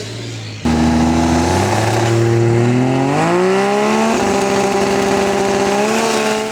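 A Holden Torana and a Ford Falcon XE launch side by side at a drag strip, engines suddenly roaring up through rising gears, loud and close, with a brief tire chirp and no talking.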